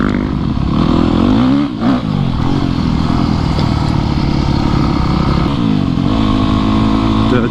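A dirt bike motorcycle engine drones loud and close while riding over mixed terrain, holding a steady rough roar with small shifts in pitch and a brief dip near two seconds.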